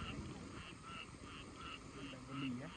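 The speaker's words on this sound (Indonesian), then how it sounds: "Dengar bunyi katak lah kan." Frogs croak outdoors in a steady pulsing chorus of repeated calls, moderately loud and continuous over a low background hum, with no talk.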